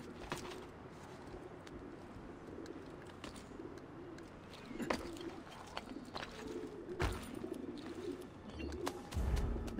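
Soft repeated cooing of pigeons in Assassin's Creed Brotherhood, several low coos over a faint ambient city bed with occasional clicks and thuds, no voices.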